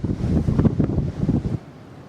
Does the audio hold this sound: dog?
no